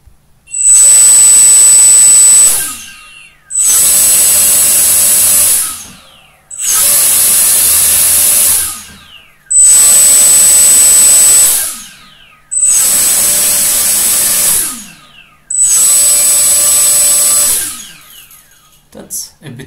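The motors of an ArduPilot hexacopter on a Pixhawk 6C flight controller spin up one after another at 50% throttle during a motor test, producing six loud, high-pitched whining bursts of about two seconds each, separated by short pauses.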